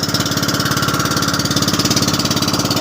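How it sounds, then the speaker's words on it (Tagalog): The engine of a small fishing boat runs close by with a loud, rapid, steady chugging pulse and a rough mechanical knock, with no voices. "Sinsya na kayo, sinisaba kayong makina na to."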